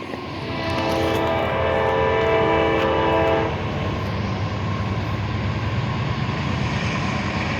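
A westbound CSX freight train with two special locomotives passes a road crossing near Route 5 in Amsterdam. A loud, close horn chord sounds for about three seconds, followed by the steady, heavy rumble of rolling freight cars.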